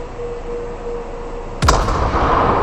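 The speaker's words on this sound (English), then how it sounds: "Oops, I accidentally fired." World of Warships naval guns go off from a warship in the game: after a quiet engine hum, a sudden loud booming salvo with a couple of sharp follow-up blasts and rumbling tail.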